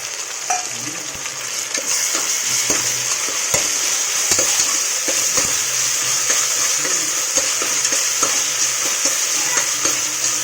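Ginger garlic paste frying in a hot pan, giving a loud continuous hiss of sizzling oil with occasional clacks of a spoon stirring, close up and without voices.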